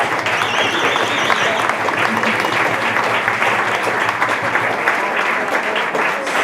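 An audience at a community jazz concert applauds the band, dense sustained clapping from many hands that fills the room, with some voices mixed in.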